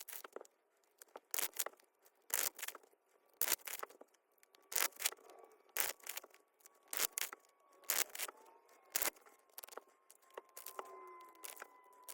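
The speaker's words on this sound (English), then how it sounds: "I did an excessive amount of shuffling because they were originally in order from the walkthrough" Biblical tarot cards are shuffled close up in rapid bursts of crisp riffles and flicks, separated by brief quiet gaps, with no talking.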